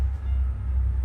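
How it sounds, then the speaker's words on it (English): Train arriving in the video game The House in Fata Morgana: a deep, steady low rumble, moderately loud and unbroken for about a second, with no voices. "there's the train coming"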